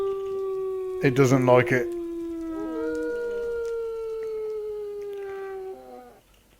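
Dogs howl in a Minecraft-style modded game, Witchery, long wavering tones sustained close and loud, with a brief burst of talk over the start.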